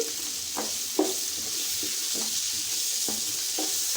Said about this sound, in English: Vegetables are fried for 5 minutes.